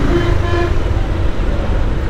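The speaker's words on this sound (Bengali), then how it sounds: "হর্ন বাজানো নিষেধ, কিন্তু হর্ন কে বাজাবে না বলেন?" A car horn honks in steady, close street traffic in Noakhali, Bangladesh, with the tone held loud and continuous over engine rumble and road noise.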